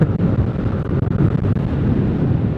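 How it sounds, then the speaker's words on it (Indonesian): Strong wind on the north coast of Madura buffets the microphone in loud, continuous low gusts with brief dips, and no voices are heard. "Angin ini kenceng pol."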